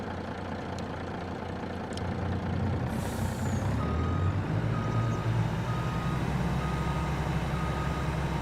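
Steady reversing beeps from a heavy truck backing up in Farming Simulator 22, repeating over a low idling engine rumble, with a brief air brake hiss early on.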